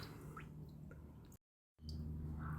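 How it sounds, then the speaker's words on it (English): Transmission fluid from a 2.5-litre CVT in a Nissan X-Trail T31 drips from the drained pan, faint scattered drips over a steady low hum, broken by a short silent gap. "now you just gotta let it drip and dry"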